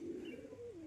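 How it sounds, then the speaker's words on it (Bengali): Pigeons of the Rajshahi Giribaj tumbler breed coo steadily and close by, a low continuous rolling call filling the short moment, with no wingbeats standing out and no talking. "দেখো উড়ছে সব পায়রা উড়ছে।"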